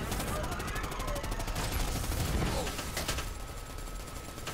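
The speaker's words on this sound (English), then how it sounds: "He's shooting in the tree again." Rapid gunfire bursts from the video game Predator: Hunting Grounds, shooting at a target in a tree, crackling steadily under a dense battle mix with voices.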